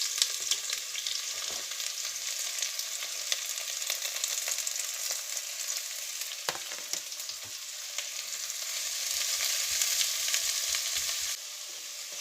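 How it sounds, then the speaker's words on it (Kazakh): Onions fry in hot oil with a steady, crackling sizzle close by, broken by a few sharper pops and a brief stir, continuing without any voices. "Май әбден қызған кезде пиязды салып қуырып аламыз."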